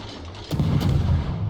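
Naval guns boom in a warship battle video game, a blind-fired salvo on a mid-tier torpedo boat, with one heavy rumbling blast about halfway through over steady engine and sea noise.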